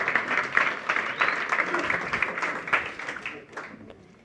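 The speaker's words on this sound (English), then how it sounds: "Big round of applause." An investor audience gives the CEO a round of applause, a moderate patter of individual claps that gradually thins and fades out toward the end.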